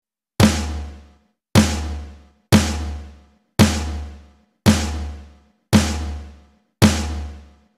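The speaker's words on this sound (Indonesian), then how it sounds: "Kemudian ketuk secara bersamaan snare dan floor sebanyak 7 kali." A drum kit's snare and floor tom are struck together seven times at an even pace, each loud, close hit ringing out and fading before the next, with no other sound.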